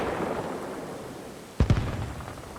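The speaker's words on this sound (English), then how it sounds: "You will see an explosion before you hear it." Explosion in the game ArmA Reforger, heard as a pair of distant thumping blasts close together over a steady rumbling background, with a faint rolling tail afterward.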